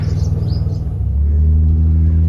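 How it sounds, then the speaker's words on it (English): A 3800 V6 Firebird with a glasspack muffler rumbles loudly nearby, pulsing at first and then settling into a deep, steady exhaust drone, with faint bird chirps in the background. "it sounds very much like a V6, but it's a lot more tolerable than it used to be."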